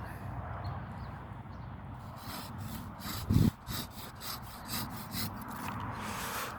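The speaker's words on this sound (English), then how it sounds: "probably about the best pruning saw you can get, and we're going to get rid of these branches" Pruning saw cutting through apple tree branches outdoors, giving steady rasping back-and-forth strokes with a sharp louder crack near the middle, close and moderately loud.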